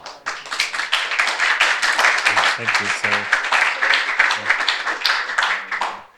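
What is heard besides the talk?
audience applause at meetup talk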